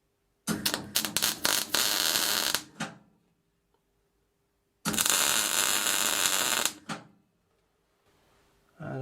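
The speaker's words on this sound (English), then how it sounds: "let's try and weld this in place, probably at a lower welder setting" A lawn mower part being arc welded at a low welder setting, heard as two loud bursts of crackling, buzzing arc noise separated by a quiet pause, with a faint hum underneath and no speech.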